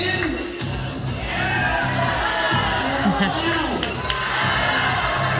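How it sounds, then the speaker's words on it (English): Spirited crowd cheering and shouting, children's voices among them, fills an evening pickleball league championship night match, steady and loud throughout, with whoops rising over the continuous roar. "We hear the crowd, they are getting into it here this evening."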